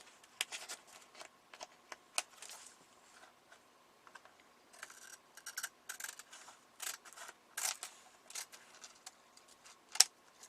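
Close, crisp scissor snips trim an extra piece from a magazine page for a paper craft, irregular clusters of sharp cuts and faint paper rustle in an otherwise quiet room.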